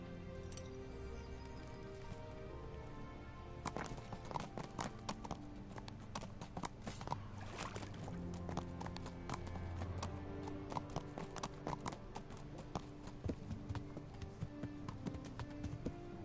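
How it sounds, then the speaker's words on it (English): Steady clip-clopping hoofbeats from a horse in the video game Kingdom Come: Deliverance, repeating in a quick rhythm over a layered musical backdrop, with a few sharper clacks. "Okay, this is our horse."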